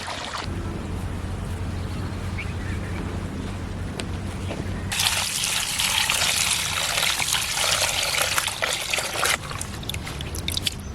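A steady stream of water falls and splashes while fresh greens are washed for village cooking: fenugreek, spinach, coriander and green garlic. The rushing sound is constant and close, growing louder and brighter partway through.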